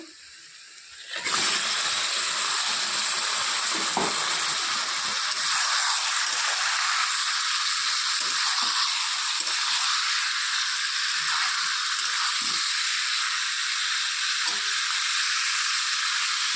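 Mutton tipped into a pan of browned onions bursts into a loud, steady sizzle that starts abruptly after a quiet second and holds evenly, with faint rattles underneath.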